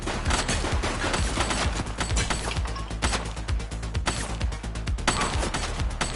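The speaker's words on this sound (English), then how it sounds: "Shots fired!" Dense, continuous gunfire from a firefight in the police video game The Precinct, loud rapid bursts and single shots crowding together with no pauses.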